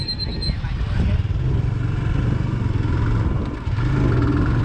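An old 150cc motorcycle engine runs with a loud, continuous low rumble and rattling clatter, dipping briefly before picking back up.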